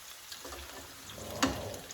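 Meatballs sizzle in a frying pan, a soft steady fry with one brief clack as tongs turn them, with no talking.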